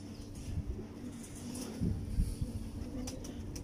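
Teddy pigeon breeder pair cooing in a loft, soft low throaty coos repeating irregularly at close range over faint background chirps.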